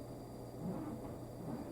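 A faint, distant mechanical rumble with a low grinding drone of a drain auger working through a grease-plugged pipe next door, steady throughout with slight swells and no voices.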